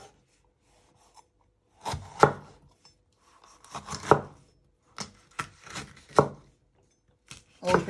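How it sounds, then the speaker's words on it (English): A knife finely slices a de-seeded pepper half on a cutting board, giving short bursts of quick crisp chopping taps separated by brief pauses, close and clear. "And you just want to finely slice it."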